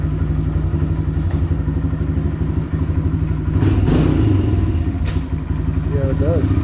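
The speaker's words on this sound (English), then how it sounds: "let's go take this thing for a spin" A Honda CRF125F pit bike being ridden, its engine giving a steady, loud, close buzzing drone throughout, with occasional clattering thumps and slight swells in pitch.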